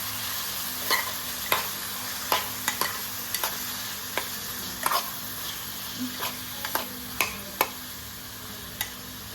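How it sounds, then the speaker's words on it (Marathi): Masala with onion and tomato sizzles softly in a pan while a spoon stirs it, giving repeated sharp scraping clicks against the metal at an uneven pace over a low frying hiss. "हे सगळं सॉटे करून घ्यायचं आहे"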